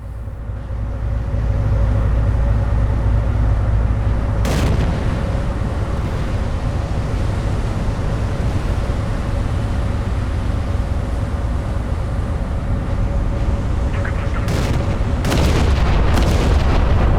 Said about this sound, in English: I think we're actually firing at the right ship now.